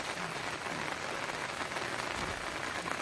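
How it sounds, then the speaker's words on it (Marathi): Heavy rain pours steadily on farmland in the Konkan, a dense, even hiss of drops drumming on surfaces, close and continuous with no voices. "आज भरपूर पाऊस पडतोय."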